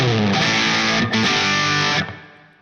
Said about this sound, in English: now let's hear the classic distortion with it